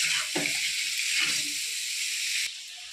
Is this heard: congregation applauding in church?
no